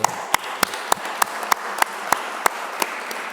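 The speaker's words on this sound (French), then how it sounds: "oui, on peut les applaudir" Sparse, evenly spaced claps at a family business forum in France, about a dozen sharp hand claps in a slow regular rhythm over a faint room background, with no crowd roar.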